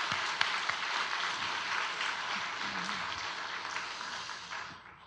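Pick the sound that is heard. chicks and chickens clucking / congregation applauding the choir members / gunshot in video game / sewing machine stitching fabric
congregation applauding the choir members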